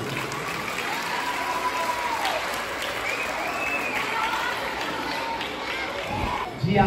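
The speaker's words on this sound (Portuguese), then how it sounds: "uma salva de palmas a todos vocês" Children and adults applaud at a school event honoring dance, a dense, sustained burst of clapping mixed with crowd chatter and cheering, holding steady throughout and ending in a louder jolt.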